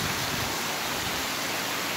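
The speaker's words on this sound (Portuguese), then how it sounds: "É muita chuva em São Paulo Potengi" Heavy rain pours down steadily in São Paulo do Potengi, Rio Grande do Norte, in northeastern Brazil, a dense, even hiss with no pauses and no voices.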